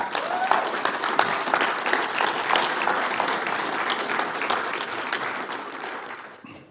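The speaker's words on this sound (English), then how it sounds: "I'll take that applause as a stopping point." A church congregation applauds at a Friday night service, dense, sustained clapping from a large crowd that holds steady for several seconds and then fades away.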